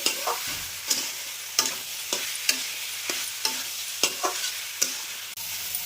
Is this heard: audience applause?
no